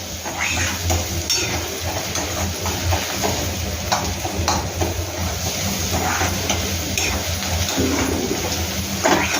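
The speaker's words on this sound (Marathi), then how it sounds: "बघा मित्रांनो 2 ते 3 मिनटं ती अशी परतवून घेते आहे" Jackfruit seed vegetable being sautéed with Malvani masala, a steady sizzle with scraping and clinking of a spatula against the pan, close by and continuous.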